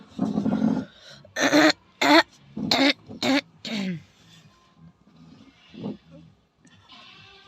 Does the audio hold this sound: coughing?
yes